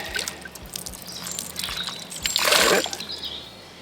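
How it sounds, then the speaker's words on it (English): Car wash shampoo poured from a bottle into a wash mitt, a soft liquid trickle and splatter that swells briefly near the end, heard close up against quiet background. "you lay down a ribbon of shampoo into the wash mitt like that"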